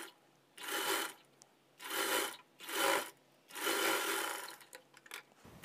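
A sewing machine stitches a katori blouse in four bursts of rapid, whirring mechanical running, each lasting about a second, separated by short quiet pauses, close and clear with no voices.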